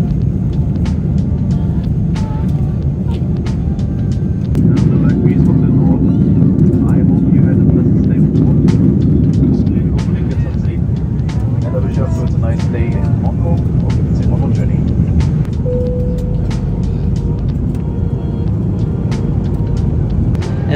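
Airbus A340-600 cabin on a Lufthansa flight from Frankfurt to Hong Kong, with a constant low engine and airflow roar filling the cabin and a voice talking over it.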